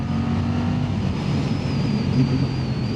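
A Suzuki GSX-8TT motorcycle engine drones steadily in fourth gear while riding, a constant close rumble with a faint whine, no talking.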